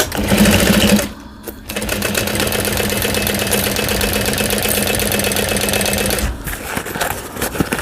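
A sewing machine stitches a bowler bag's gusset lining with a 3/8 inch seam allowance, running loud and close in a fast steady whir, with a short pause near the start and another near the end.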